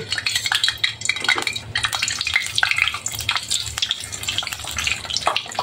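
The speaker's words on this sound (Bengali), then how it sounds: "এখন তেজপাতা, দারচিনি ও এলাচি তেলে দিয়ে দিব" Bay leaves, cinnamon and cardamom drop into hot oil in a wok for spiced goat-head curry. A close, crackling sizzle runs throughout, mixed with scattered metallic clinks of the pan and utensils.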